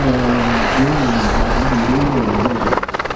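A Gendarmerie Écureuil helicopter with a French-built Safran engine at the Cholet 2022 air show gives a loud, steady rotor and turbine drone with a wavering tonal whine, its rotor beat growing more pronounced toward the end.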